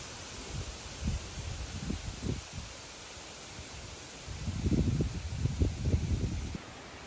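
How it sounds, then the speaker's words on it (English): Wind picks up across an open field near a forest at a lake dune park, blowing in soft, low gusts that swell and fade, stronger near the end, with no voices. "What I didn't notice at the time was just how much the wind was really picking up."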